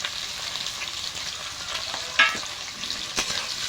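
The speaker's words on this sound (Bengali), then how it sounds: "এগুলো নাড়াচাড়া করে ভেজে নেব। পেঁয়াজ রসুনটা একটু ভেজে নিয়েছি" Chopped onion and crushed garlic fry in hot oil, a continuous close sizzle with scraping stir strokes from a spatula in the pan, including a couple of sharper clanks, and no talking.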